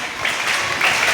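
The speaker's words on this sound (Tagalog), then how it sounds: "Palakpakan." A group claps at a Boy Scouts gathering, a steady, dense burst of applause that swells slightly toward the end, with no talking.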